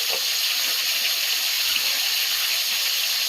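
Water from a tap pours steadily into a bowl in a kitchen while potatoes are readied for cutting, a continuous close hissing gush with no pauses.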